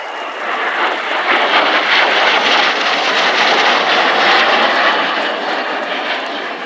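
At the RAF Cosford Airshow 2018, an aircraft roars past overhead on a final topside pass. It is a loud, steady, broad engine rush that swells and holds for several seconds with no voices.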